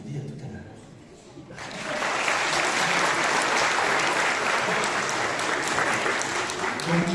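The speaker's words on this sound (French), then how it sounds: "on est dans le moment des applaudissements" Film festival screening audience breaks into sustained applause after a brief stretch of murmuring, the dense clapping swelling and holding loud and even to the end.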